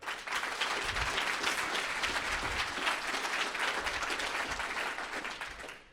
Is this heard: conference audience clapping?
yes